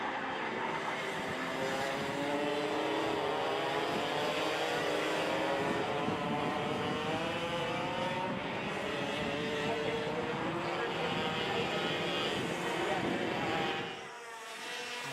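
Tag 125 Heavies class racing karts run a club championship final, their high-pitched two-stroke engines forming a dense, loud, continuous buzz that drops away near the end.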